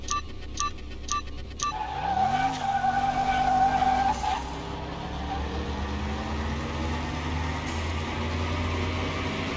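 Ferrari GT Speciale race car in the video game Car Mechanic Simulator 21, engine droning steadily with rising tones as it races alongside other cars, with a brief squeal partway through and a continuous loud roar to the end.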